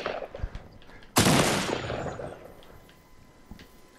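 Gunfire in a battle royale video game: a single loud sharp burst of shots erupts midway and decays over about a second, with quieter background game noise around it.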